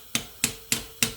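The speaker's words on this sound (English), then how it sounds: "just give it a couple of little taps. That will break that seal loose" Four evenly spaced sharp metallic taps of a punch struck on the edge of a valve spring retainer, from a Corvette cylinder head, close and alone.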